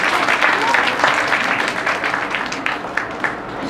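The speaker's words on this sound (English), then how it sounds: "Can we have a round of applause" Audience applause in a medical conference session, a dense steady wash of clapping that fills the short span at an even level with no voices standing out.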